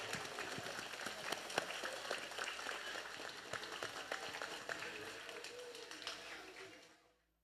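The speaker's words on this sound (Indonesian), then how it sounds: "Saya minta tepuk tangannya yang meriah untuk adik-adiknya dulu" Lively applause from a crowd at a scout induction ceremony sounds as a steady patter of many hands, fairly distant, tapering off and ending near the close.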